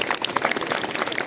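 A classroom of children claps together, a brief, steady burst of applause with no voices over it.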